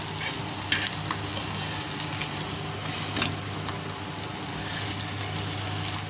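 Surmai fish pieces in a semolina coating frying in a pan with kokum pieces, a loud steady close sizzle with occasional small pops and crackles throughout.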